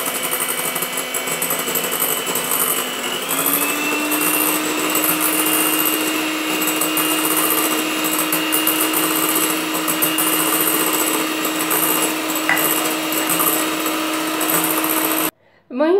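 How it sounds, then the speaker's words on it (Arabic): An electric mixer beats Italian meringue in a steady, loud, continuous whir whose pitch rises slightly early on and then holds, running throughout before cutting out near the end with a clatter. "المهم كنبدا نخلط حتى نسالي داك السير كله، وكنبقى نضرب حتى تيتبرد ليا لامورانغ مزيان"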